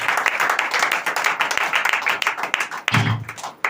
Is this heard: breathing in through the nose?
no